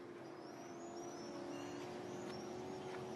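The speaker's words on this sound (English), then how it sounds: "But they're motorboats in the harbor." Motorboat engines running in a harbor, a steady droning hum with a high whine on top, holding constant and continuous for the whole stretch like distant racing motorbikes.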